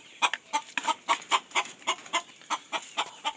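Jamaican game fowl clucking close by in a rapid, steady series of short clucks, about a dozen in quick succession with no talking.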